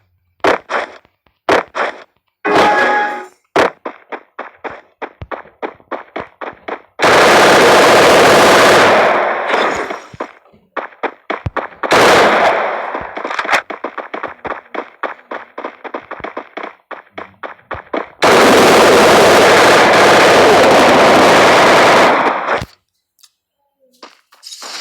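Loud gunfire in a video game where a sniper rifle is chosen, heard as sharp shots fired in quick volleys and clusters, broken up by two long stretches of sustained blasting noise, with no talking.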